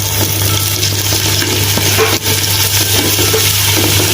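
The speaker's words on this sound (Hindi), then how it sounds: "तो हल्का सा गोल्डन फ्राई कर लेते हैं।" Garlic ginger paste frying with sautéed onions in a pan, a steady loud sizzle with faint stirring clicks and scrapes throughout, no talking.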